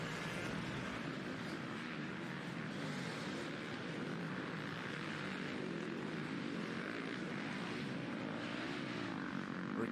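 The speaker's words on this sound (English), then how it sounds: "the Fox FPV drone fired back up as well" A Fox-branded FPV drone flies over a motocross GP track at Southwick, its steady, loud propeller drone filling the air with broad, continuous noise and no pauses throughout.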